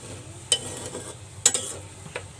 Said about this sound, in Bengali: জিরাটা দিয়ে এটাকে হালকা একটু ভেজে নিই।